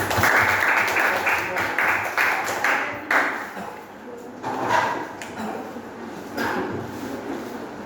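Classroom audience applauding after group presentations in a Christian religious education lesson, a dense patter of clapping with a few sharper knocks and bumps mixed in, fairly near and steady throughout.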